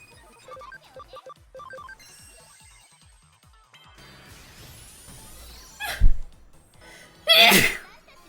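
Faint electronic game beeps and chimes fade into two close, forceful sneezes from a person at a gaming session, a short one followed by a longer, louder burst.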